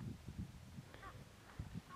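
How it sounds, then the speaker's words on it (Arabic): Birds at a small mountain lake on Mount Maouna near Guelma give a few faint, short calls, scattered over a low, steady outdoor rumble. "هذه بحيره صغيرة فيها طيور"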